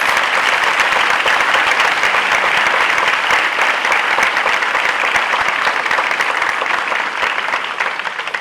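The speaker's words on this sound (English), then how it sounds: "So you can do a round of applause for all your 5-year Service Award recipients." A large audience at a college chancellor's opening session applauds service award recipients, a dense, sustained burst of clapping from many hands that stays loud throughout and tapers slightly near the end.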